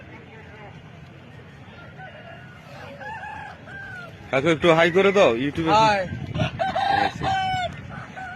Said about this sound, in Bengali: দেখতেই পাচ্ছ তোমরা মুরগি কত বাঁধা আছে